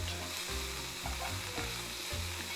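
Meat for a Hungarian goulash sizzles and spits hard in a pan over high heat, a steady close frying hiss with brief stirring scrapes and no voices.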